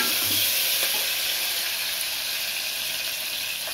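Onions sizzling steadily in hot oil in a pan, a continuous bright frying hiss with a brief stir near the start, close and alone without talk.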